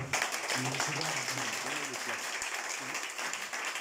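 A church congregation claps steadily to acclaim the Lord, a dense, even wash of applause under a voice speaking over it.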